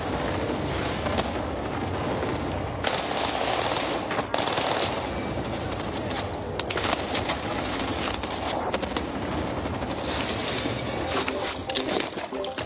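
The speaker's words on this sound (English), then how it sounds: "He's trying to beam me out of the air with the pistol" Rapid pistol and automatic gunfire in a battle royale video game match, dense bursts of shots running continuously at close range with voices talking over them.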